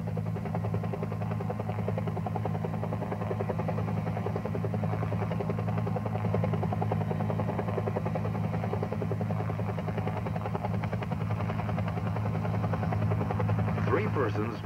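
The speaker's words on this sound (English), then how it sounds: "Use the treetops to conceal your aircraft while hovering." A military helicopter hovers low over treetops during a McGuire rig team recovery, its steady rotor thump and turbine drone loud and continuous from start to finish.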